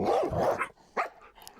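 A dog barks in a survival video game, giving one loud, close growling bark followed by a shorter, sharper bark a moment later, with no talking.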